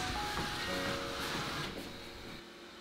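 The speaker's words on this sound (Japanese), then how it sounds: "掃除機は掃除が終わると勝手に充電ステーションに戻ります。" A Neabot NoMo Q11 robot vacuum heads back to its charging station in a kitchen, giving off a soft, steady motorized whir with faint mechanical tones that gradually fade.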